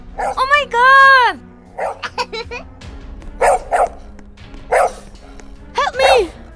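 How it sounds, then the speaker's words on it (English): A dog barks in short, sharp bursts spread across several seconds, mixed in with loud speaking and crying voices. "Linda, take your dog away."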